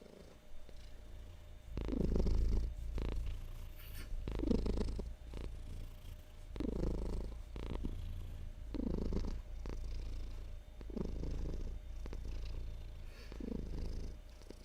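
A sixteen-year-old cat purrs steadily while being petted, a soft, close, rhythmic rumble rising and falling with each breath, with no talk over it.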